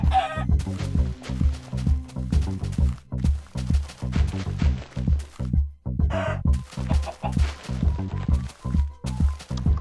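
Chicken clucks from the Minecraft video game, short repeated clucking calls in a steady, loud rhythm that continues throughout, with no speech.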